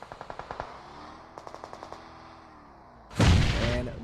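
Scar rifle fire in a battle royale video game: two quick bursts of rapid, evenly spaced shots, then a loud, broad explosive blast that tails off.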